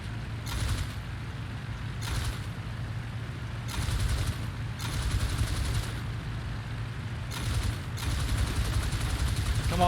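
Aircraft machine guns in the WWI flight game Il-2 Flying Circus fire in repeated bursts over a constant droning engine, with roughly five rattling volleys spaced a couple of seconds apart.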